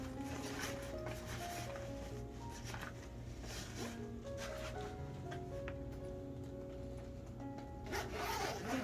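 Carry-on bag zipper being pulled closed, a continuous close rasping slide with a few brief stops and a slightly louder pull at the end, over a steady low background hum.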